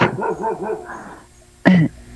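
A dog kept tied up nearby gives one short, loud bark, which stands out after a stretch of people talking.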